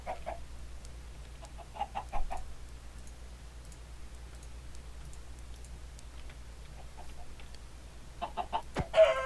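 Minecraft chicken clucks in short bursts, a few soft repeated clucks spaced across the span over a low steady game hum, with a sharp click near the end.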